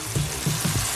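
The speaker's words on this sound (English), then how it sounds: "So this is how that burger's frying up." A burger patty fries in a pan with a steady, broad hiss of sizzling grease throughout, dotted with a few soft low pops and spatters, close and even in loudness.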